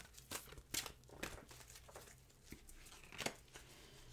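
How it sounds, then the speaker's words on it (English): Angel Oracle cards being shuffled and dealt, with a series of crisp papery snaps and rustles at irregular intervals, close and fairly quiet. "I'm going to shuffle and deal you an Angel Oracle card"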